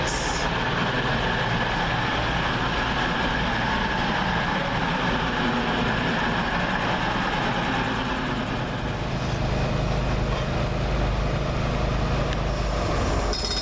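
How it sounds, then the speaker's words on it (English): A CrossCountry class 220 unit, 220026, on the Newcastle to Southampton Central service rumbles steadily past at Doncaster. The heavy, continuous rolling and engine drone stays loud throughout and shifts slightly toward the end. "The heavily delayed 9:59 cross-country service from Newcastle to Southampton Central. 220026."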